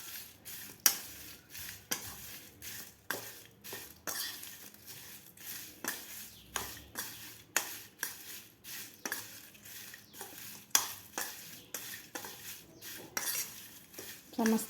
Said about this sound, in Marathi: आता आपल्याला व्यवस्थित मिक्स करून घ्यायचं आहे.